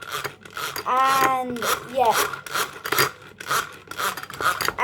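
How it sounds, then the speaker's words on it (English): A whisk beating pancake batter in a bowl until foamy, heard as a steady rapid raspy scraping and rubbing, fairly close, with a brief voice speaking over it early on. "you have to keep whisking it till it gets foamy"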